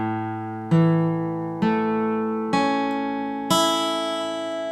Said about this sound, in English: double check your chords to see if they're really clear is to go through each string individually